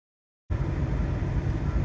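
A car travels along a snow-covered road in a Canadian winter, giving a steady, fairly loud low rumble of engine and tire noise that starts abruptly after a brief silence and holds even, with no talking.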